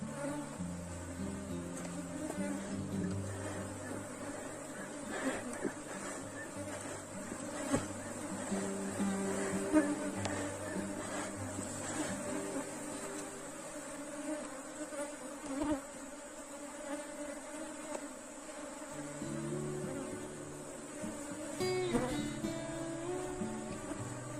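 A swarm of Africanized honey bees buzzes steadily around a hive during a colony split, a dense continuous drone of many wings close by that swells and shifts without pause.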